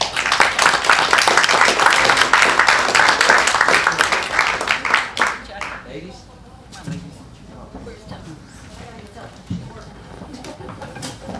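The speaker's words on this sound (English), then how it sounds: "So a round of applause for you guys." Attendees at a city council meeting give a round of applause, with loud, dense clapping for about five seconds that then thins into scattered claps and room noise with voices.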